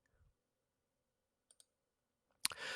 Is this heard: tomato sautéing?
no